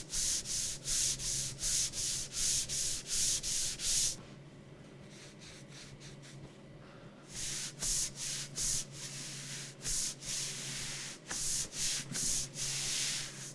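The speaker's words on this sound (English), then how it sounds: "I'll give you a sound test with me rubbing my arm across the mouse pad" A damp forearm rubs back and forth across a glass gaming mouse pad, producing rapid rhythmic squeaky swishes, close and alone, with a pause of quiet in the middle before the rubbing resumes.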